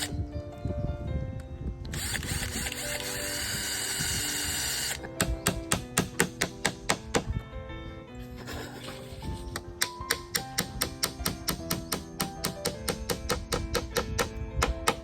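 A power drill bores into bamboo in bursts, with a steady whining run followed by rapid rattling, chattering pulses, close and prominent, with no talking.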